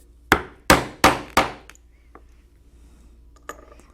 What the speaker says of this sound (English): I'll punch a 1/4 inch hole